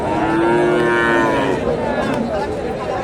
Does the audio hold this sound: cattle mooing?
yes